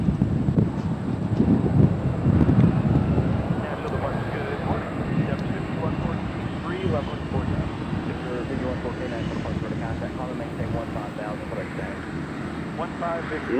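Southwest Airlines flight 3670 arriving at Nashville International Airport, a steady broadband jet roar with wind buffeting on the microphone, loudest early and holding at a constant level throughout, with a voice talking over it.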